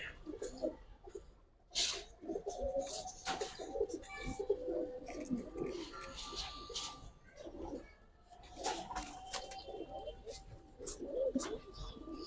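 Giribaz pigeons cooing in bursts of low throaty calls, with wing flutters and rustling nearby and a voice talking at times.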